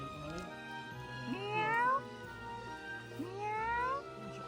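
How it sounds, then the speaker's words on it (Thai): A farm cat on a hillside farm near Sare in southern France gives two clear, drawn-out meows in succession, close by, over a soft steady background hum. "ป้าป้าก็เรียกให้เราไปดูแมวค่ะ"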